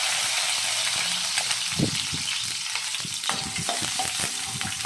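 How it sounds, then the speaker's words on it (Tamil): Garlic sizzles in hot oil in a pan for a mashed-spice brinjal curry, a steady close crackle with occasional stirring scrapes and no talk. "பூண்டு போட்டு நல்லா வணக்கிக்குவோம்."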